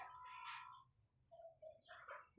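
A wild bird gives a few faint, short chirping calls in a quiet outdoor setting, brief bright notes spread over a couple of seconds against a low background hum.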